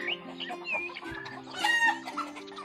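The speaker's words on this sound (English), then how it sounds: "and the chicks and hens." Hens cluck steadily in short repeated notes nearby, with a few higher squawks mixed in.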